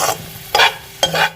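Chicken chilli and onions being stirred in a hot pan, with three quick, loud scraping strokes of a spoon over a low sizzle, very close and alone.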